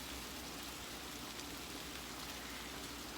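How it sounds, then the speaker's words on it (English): Chicken broth poured into a hot pan to deglaze it, a dense, even hiss of sizzling that holds steady and fairly quiet through the clip, with no talk. "You can hear it sizzle right away."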